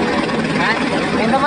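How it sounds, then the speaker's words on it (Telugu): Helicopters at the Kedarnath helipad drone steadily with a loud, close rotor and engine roar, while people talk over it. "ఇట్లా పార్కింగ్లో వస్తూ ఉంటే పోతూ ఉంటాయి అనమాట హెలికాప్టర్లు."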